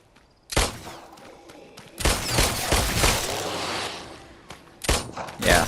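Bursts of video-game gunfire from The Brookhaven Experiment, fired at close range, come in loud clustered volleys separated by short gaps, with a sustained rattle in the middle stretch.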